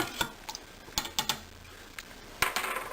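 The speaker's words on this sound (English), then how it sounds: "stir it up" A teaspoon stirring a drink in a glass, sharp clinks arriving in irregular bursts against a quiet background, close and alone.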